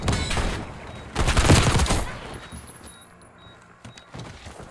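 Gunfire in a first-person shooter game, with a dense burst of rapid shots that swells mid-clip and then tapers into scattered single cracks and softer clicks.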